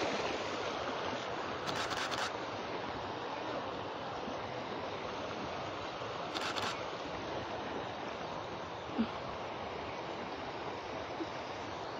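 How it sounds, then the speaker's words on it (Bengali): Floodwater rushing over the Sylhet–Salutikar road in the 2024 Bangladesh floods, a steady broadband roar of flowing water that holds at an even level throughout with no voices. "সড়কের উপর দিয়ে গোয়েন্দাঘাট শালটিকা সড়কের উপর দিয়ে আসলে পানি প্রবাহিত হচ্ছে"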